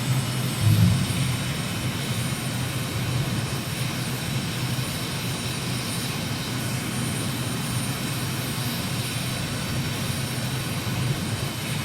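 An aircraft engine in Microsoft Flight Simulator drones steadily and loudly while the throttle is raised, a continuous full roar with no other sounds.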